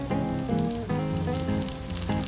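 Ragi and green gram dosa batter meets a hot griddle, giving a steady, close sizzle that runs throughout over a faint tonal background.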